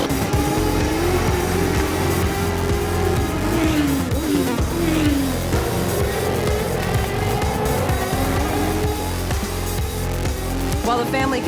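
Go-karts racing on a family karting track, a loud continuous engine drone with pitch sweeps as the karts accelerate and ease off, steady and close throughout.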